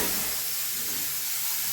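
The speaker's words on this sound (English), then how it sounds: "Yes, it sizzle. It has to sizzle." Beef sizzles loudly and steadily in a hot pan while browning for a pasta sauce, a continuous hiss close by with no talking.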